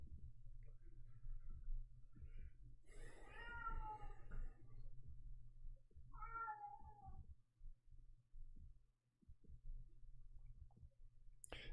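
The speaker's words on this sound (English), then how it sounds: "he'll come back and just meow" A house cat meows twice, a longer drawn-out call and then a shorter one a few seconds later, fairly close against low background rumble in a quiet room.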